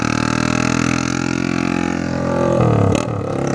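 A loud motorcycle, a Honda Start 160 with a straight-pipe exhaust, rumbles steadily with a harsh, open exhaust tone, rising briefly in pitch near the end as it revs.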